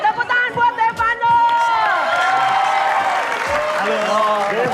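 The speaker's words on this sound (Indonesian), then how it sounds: "Tepuk tangan buat Devano." An audience applauds a boy named Devano on an Indonesian television talk show. The clapping starts in a few scattered bursts, then becomes steady with chatter and cheering mixed in.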